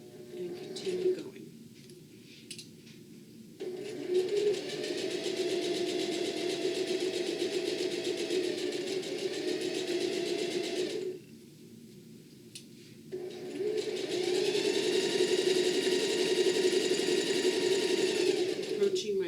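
Domestic sewing machine stitching a bag seam: steady whirring runs of motor hum with short pauses between them, close and loud throughout.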